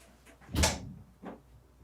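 A restroom door opens and closes in a quiet room, one soft thud followed by a fainter second knock about a second later, close and gentle.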